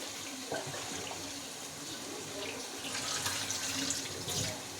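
Tap water runs steadily into a sink, with soft splashing as raw chicken is rinsed under the stream; no voices.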